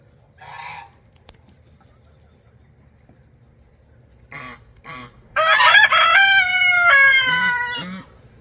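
Backyard hens dust bathing give a few soft clucks, then a loud, drawn-out squawking call rings out near the end, with quiet gaps between sounds.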